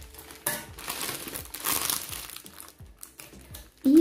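Plastic packaging crinkles and rustles up close in uneven bursts, with a sharper crackle partway through and a brief tonal sound at the end.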